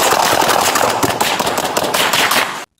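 Rapid burst of police gunfire aimed at a man holding a replica gun, loud and close, a dense run of cracking shots for about two and a half seconds that then cuts off abruptly.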